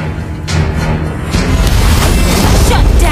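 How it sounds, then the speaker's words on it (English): A booming explosion as a turret is destroyed in the Mobile Legends mobile game, a loud, heavy crash that swells into a sustained rumbling blast, with game audio layered over it. "Your team destroyed a turret!"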